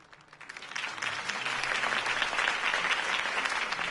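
Applause from a crowd in the video game Batman: The Telltale Series swells up quickly and holds steady, a dense continuous clatter of many hands clapping.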